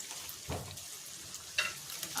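Mutton being stirred in a hot pan, a soft sizzle with a few scraping strokes of a spoon, close and fairly quiet.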